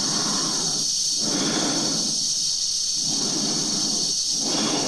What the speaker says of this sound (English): that hiss sound, is that oxygen?